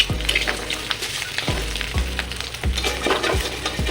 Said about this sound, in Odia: ଅଣ୍ଡା ଆଉ ଆଳୁକୁ ଟିକେ ଫ୍ରାଏ କରିଦେବ।